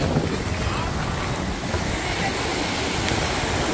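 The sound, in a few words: sea waves at Dwarka shore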